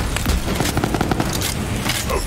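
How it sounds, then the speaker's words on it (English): Rapid pistol gunshots crack in a video game, several quick, loud reports close together over dense game noise, with no clear talk. "just using this pistol then"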